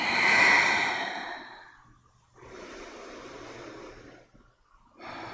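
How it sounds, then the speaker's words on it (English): Yoga breathing during a Hanumanasana class: a strong, airy exhale comes first, then a softer, longer breath through the nose and a final breath starting at the end, each separated by near silence. "Inhale through your nose. Exhale through the mouth."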